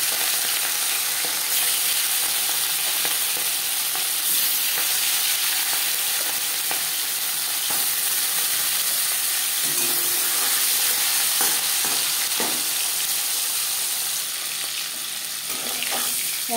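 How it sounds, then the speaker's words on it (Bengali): Marinated hilsa fish pieces fry in hot mustard oil in a pan, giving a loud, continuous crackling sizzle with scattered pops and spits, close by and without talk. "4 চামচ সরষের তেল গরম করে নিয়েছি। এবার দিয়ে দেবো ম্যারিনেট করে রাখা মাছ।"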